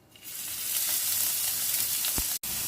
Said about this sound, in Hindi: प्याज को ट्रांसपेरेंट होने तक भून लेंगे।